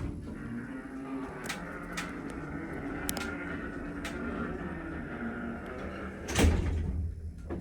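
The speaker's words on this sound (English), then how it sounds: "That door is slow." A vintage Haughton traction elevator's door slides slowly along its track in a Bethesda, Maryland building, a long low rumble with several light clicks and a heavier thud near the end.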